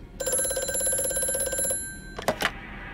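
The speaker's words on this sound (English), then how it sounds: "Just stop ringing. I really don't want to pick this up, dude." A telephone rings in the horror game Amnesia: one sustained electronic trill lasting over a second, then a short clatter, loud and close with no talking.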